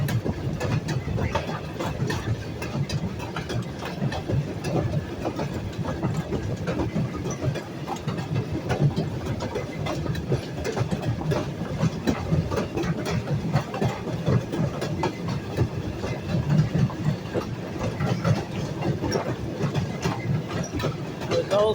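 Maryland & Pennsylvania Railroad motor car rolling along track, a steady low rumble and rattle of wheels and engine throughout, close and continuous with faint voices underneath.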